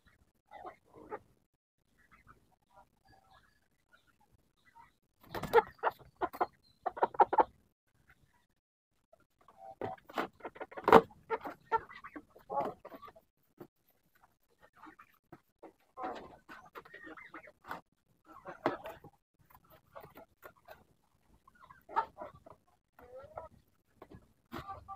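A hen clucks in short bursts and chickens cluck close by, with quiet gaps between the bursts.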